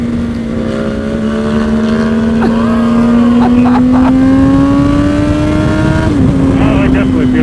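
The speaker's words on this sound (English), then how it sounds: "It's the lightest and fastest motorcycle I've ever ridden" A Ducati Panigale V4 motorcycle, 196 horsepower at about 400 pounds, accelerates hard with a loud, close engine whose rising drone climbs steadily before a brief dip near the end as a quick shift changes gear.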